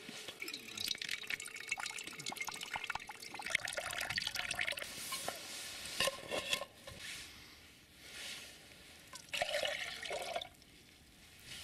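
Water is poured into a cooking pot at a near-freezing wild camp, in uneven splashing bursts with pauses and trickles, close and fairly quiet, with no talk over it.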